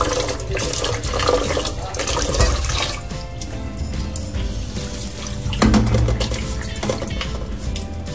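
A kitchen tap runs steadily into a sink, a continuous splashing rush with shifting tone as water hits dishes, close and fairly loud with no talk.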